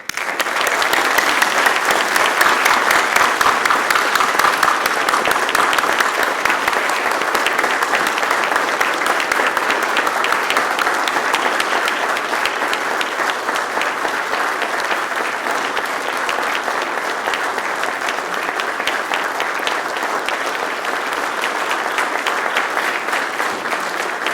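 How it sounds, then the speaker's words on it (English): Loud, sustained applause from a large crowd at an ROTC Hall of Fame ceremony, a dense wash of clapping that holds steady for over twenty seconds. "a big round of applause"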